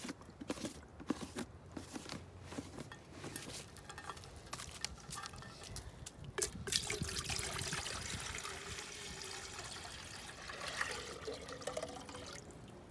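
Water trickling and splashing into a pot outdoors before it is hung over a campfire, a soft, close pour with light clinks and handling noises, fairly quiet throughout.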